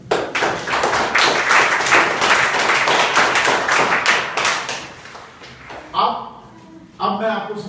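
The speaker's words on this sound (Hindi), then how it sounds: "वेरी गुड, ताली बजाओ।" Schoolchildren in a classroom clap their hands in a loud, dense burst of applause lasting several seconds before it tapers off, with voices rising near the end.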